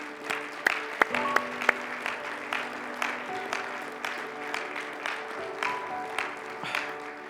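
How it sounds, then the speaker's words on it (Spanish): Church congregation applauds the Lord, a moderate, fairly distant clapping with a few sharper individual claps and some faint voices mixed in. "¿Puedes darle un fuerte aplauso al Señor?"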